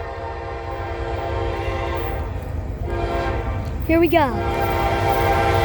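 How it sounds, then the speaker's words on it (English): Westbound Norfolk Southern intermodal freight train passing in O'Fallon, Missouri, with steady rumbling rail noise throughout and a loud horn blast near the end; someone speaks briefly over it. "We got a train. O'Fallon, Missouri."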